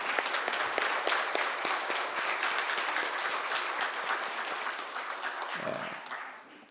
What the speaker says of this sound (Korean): 크게 영광의 박수를 돌리며 더 크게.